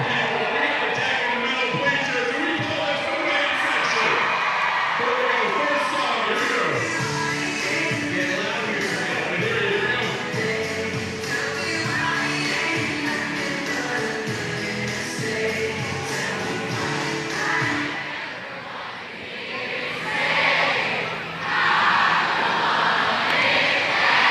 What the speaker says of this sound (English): sing-off going on here in Grayson Stadium, and as the crowd competes, seeing who can belt out some classics